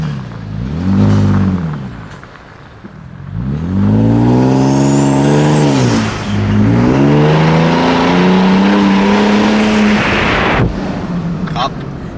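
A 2022 Toyota Tundra fitted with a Carven cat-back exhaust revs hard, rising and falling through several loud, sustained pulls that swell and drop back, with voices talking in between.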